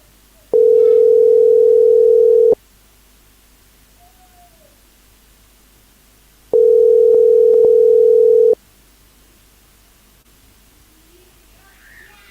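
Telephone ringback on a call line: two long steady electronic tones about two seconds each, separated by a few seconds of near silence, loud and clean.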